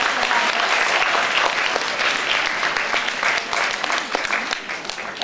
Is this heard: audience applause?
yes